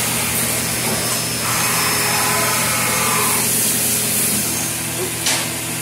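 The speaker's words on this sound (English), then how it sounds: "now it's going to get ready to drill it off" CNC mill drilling a hole in a Kenworth K100 part, a steady whirring spindle hum with hissing coolant spray and a faint grinding cut, loud and continuous for several seconds.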